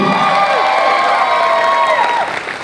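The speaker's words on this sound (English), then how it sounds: "they deserve a big round of applause" Wedding reception guests cheer, whoop and applaud together in a loud, dense crowd burst, with high shouts and whistles over steady clapping that eases off near the end.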